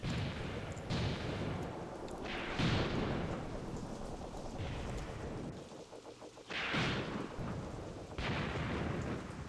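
Tank cannon fire in the war game Graviteam Tactics: several heavy booming shots with rumbling tails, at roughly two-second intervals, over a constant low roar of battlefield ambience.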